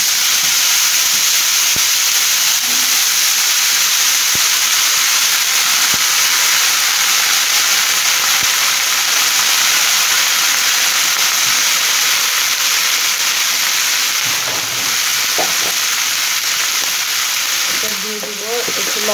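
Cauliflower florets with a little turmeric and salt fry steadily in hot oil, a dense continuous sizzle with faint stirring and utensil clinks near the end, no speech over it.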